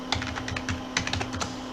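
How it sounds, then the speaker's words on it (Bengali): Fingers type on a computer keyboard during a beginner spreadsheet lesson, tapping out quick, irregular keystrokes close by over a low, steady hum. "তারপরে লিখলাম কামরুজ্জামান"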